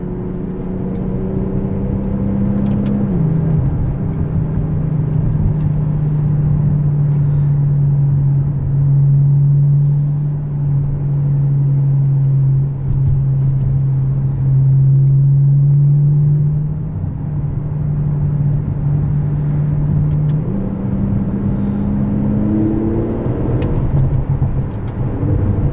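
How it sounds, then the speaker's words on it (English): A 2017 Aston Martin DB11 with a twin-turbo V12 pulls hard from inside the cabin, a loud continuous engine drone that climbs, settles and swells again with no talking. "But there's just something about a twin turbo V12. The swell of torque."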